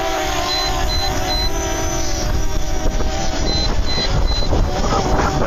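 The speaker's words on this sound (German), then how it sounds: "der Wind wird immer stärker" Strong outdoor wind buffeting the microphone with continuous low rumbling gusts, loud and close, while a small MJX Bugs 7 drone hovers in it and a faint high beeping repeats in two short bursts.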